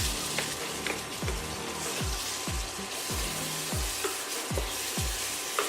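Crushed fried plantain and egg are stirred in a hot pan, a steady sizzle under roughly rhythmic scraping strokes about once a second, close and fairly loud, with no talking.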